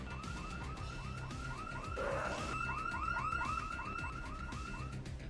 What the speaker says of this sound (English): Everywhere I went, the alarms went off